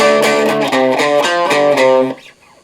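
A distorted electric guitar riff from a song plays quickly, rapid repeated notes in a tight rhythm that cut off sharply near the end.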